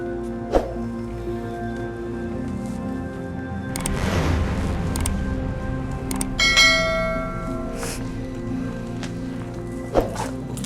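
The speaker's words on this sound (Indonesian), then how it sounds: "Lonceng suci." A bell rings with sustained, shimmering tones, struck a few times with sharp hits and clattering in between, fairly close.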